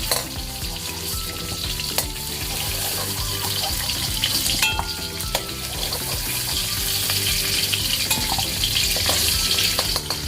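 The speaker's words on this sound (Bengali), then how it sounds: "টমেটোকে একটু নেড়ে চেড়ে নিচ্ছি।" Tomatoes frying and being stirred in a pan while chana dal with egg is made, a steady close sizzle running throughout with scattered clicks and scrapes of the spoon against the pan.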